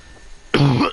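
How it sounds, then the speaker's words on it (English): Someone with a cold gives a short, harsh cough or throat clear after a quiet moment, loud and close to the microphone, with a second small burst right at the end. "if you hear me coughing a lot in the video, don't be surprised"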